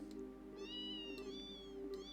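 Kittens in the video game Trails in the Sky 2 give a few soft, high, wavering meows in quick succession, faint and close, with no talk over them.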